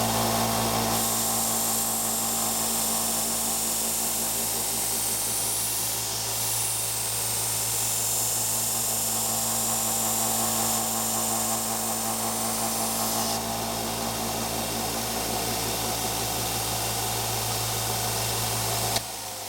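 A belt sander grinds and refines a knife blade edge, a steady loud abrasive whir with a constant hum running throughout, close up and uninterrupted, with no talking.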